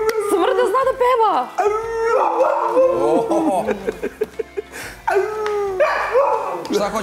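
A dog howls and whines in a sing-song way at close range, its long wavering tones breaking into short yelps and whimpers midway before the howling rises again.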